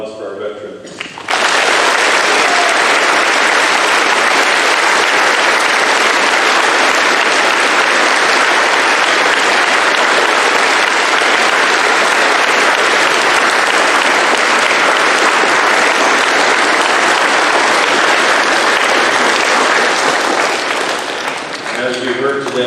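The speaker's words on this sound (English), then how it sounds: "I would like one giant round of applause for our veterans" A school Veterans Day program audience gives veterans a long, loud, sustained round of applause that fills the room evenly and tapers off slightly near the end.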